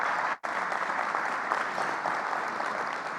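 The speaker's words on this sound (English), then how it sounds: "Let's give him a big round of applause." An audience at an enterprise IoT summit breaks into sustained, dense applause that fills the hall evenly for several seconds.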